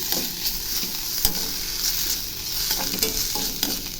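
Papad stir-fry, made with coconut, curry leaves and coriander, being stirred in a hot pan: continuous sizzling and frying with repeated scraping strokes of a utensil against the pan, close and fairly loud, with no talk.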